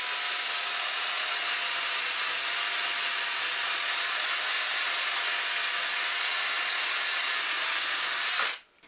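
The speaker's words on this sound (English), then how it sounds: "this is just a steel wire wheel in the DeWalt, and it's just peeling it off." A steel wire wheel chucked in a DeWalt drill strips old paint from an Atlas 7B shaper, a steady loud whirring grind that runs unbroken for several seconds before cutting off abruptly at the end.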